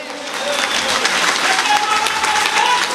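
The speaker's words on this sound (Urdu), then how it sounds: "پرزور تالیوں میں استقبال کیجئے جناب اعجاز الحق صاحب" An audience claps loudly and steadily to welcome Ijaz ul Haq to the stage, with crowd murmur and voices mixed into the sustained applause.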